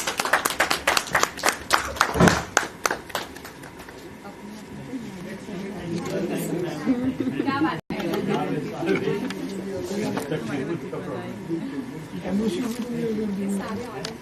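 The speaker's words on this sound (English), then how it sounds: "Everyone please give a huge round of applause." Audience applause at a national convention of electronics and telecommunication engineers: a short burst of sharp, rapid clapping opens, then gives way to voices talking and murmuring crowd chatter for the rest.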